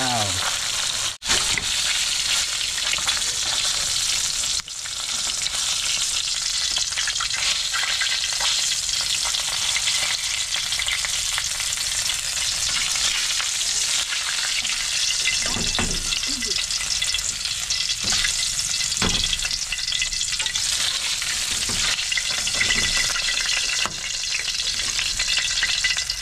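Fish sizzles and crackles steadily in a hot frying pan for the whole stretch, with occasional scraping stirs, while people talk over the cooking.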